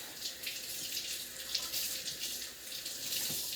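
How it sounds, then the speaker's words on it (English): An item being rinsed under a running tap into a sink, a steady close hiss of flowing water with slight splashing changes as the object moves through the stream. "Rinse it back off."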